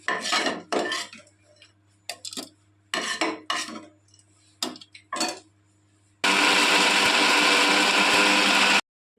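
Kitchen mixer grinder grinding roasted spice ingredients for a chapati side curry, heard as a loud, steady whirring roar of a few seconds after some short clinks and knocks of utensils.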